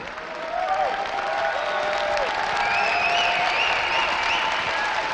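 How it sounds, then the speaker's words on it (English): A crowd applauds and cheers for StarCraft player TaeJa at the WCS Season 2 Finals, a steady, dense wash of clapping that holds for several seconds, with a few whoops and shouted voices rising above it. "Give him a big round of applause again, guys."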